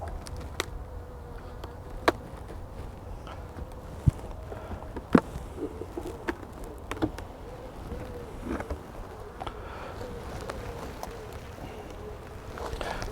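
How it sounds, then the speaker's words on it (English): Honeybees buzzing around an opened hive super, a steady low drone close by with scattered clicks and knocks of hive parts being handled, no voices. "So there's a few bees at the top here"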